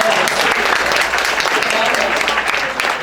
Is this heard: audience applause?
yes